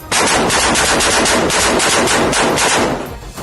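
Soldiers fire guns nonstop into a house in Khan Younis, South Gaza: a loud, continuous burst of rapid machine-gun fire that fades slightly at the end.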